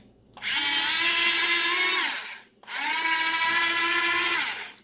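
A HUINA 1570 RC excavator with rubber tracks drives, its electric motors giving two sustained high whining runs, each about two seconds long, with a short pause between, close and loud.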